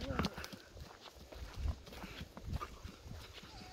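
A donkey walking under a rider makes irregular, soft hoof clops close by, mixed with a voice speaking over them.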